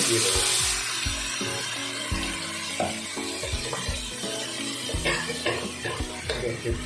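Sea fish frying with spices in a pan in a village kitchen, a soft constant sizzle broken by repeated scraping strokes of a spatula as the pieces are stirred.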